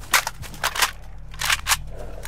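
A weapon reload in the game S.T.A.L.K.E.R. Anomaly: a quick series of sharp metallic clicks and clacks in two bursts, close and crisp, with a brief gap between them.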